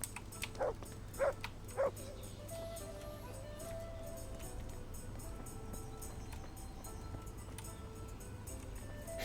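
A dog in the medieval video game Kingdom Come: Deliverance gives three short, evenly spaced barks early on, then falls silent over a steady low ambient hum.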